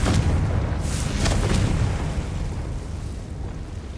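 A blasting Confringo spell explodes in Hogwarts Legacy, a loud deep boom that rumbles and slowly fades over a few seconds, with short crackling bursts near the start.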